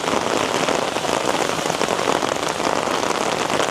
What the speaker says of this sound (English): head out into the torrential downpour